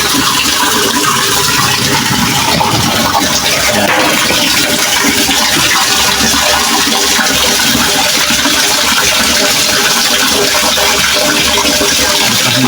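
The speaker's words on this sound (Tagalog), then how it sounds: "Ayan ang tubig." Water gushes steadily from a water pump with a recurring fault, a constant loud broadband rush with a faint mechanical rattle underneath and no talking.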